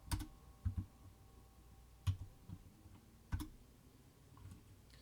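Worn computer keyboard typed in a few short bursts of clicking keystrokes with pauses between, close and fairly quiet in a still room.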